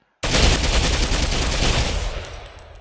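Rapid automatic fire from a fast-shooting support gun in Ghost Recon Phantoms: one loud, continuous burst of about two seconds that starts abruptly and then fades into a short ringing tail.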